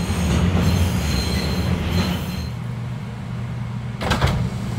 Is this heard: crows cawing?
no